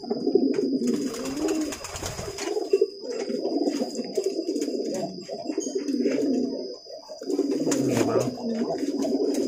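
A pigeon coos repeatedly in a courtship display, low throaty rolling calls close by in a loft, with someone speaking briefly and a faint steady high tone in the background.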